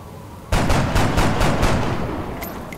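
A rapid burst of automatic gunfire in the video game XCOM Long War, about six loud, close shots in quick rhythm that fade into a ringing tail, followed by a couple of faint high electronic blips.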